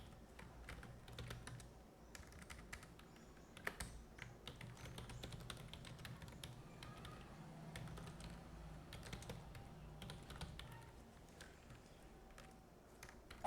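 Fast, steady typing on a computer keyboard while coding Python, dense irregular key clicks running throughout at close range under a low background hum, with no talking.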